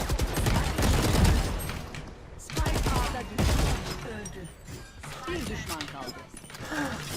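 Gunfire in the Valorant video game, with repeated bursts of rapid shots and impacts in several loud bursts, mixed under excited talking.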